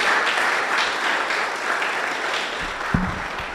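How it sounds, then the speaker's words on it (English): A crowd claps steadily and loudly throughout, a dense wash of applause with no pauses. "Keep clapping, keep clapping, keep clapping"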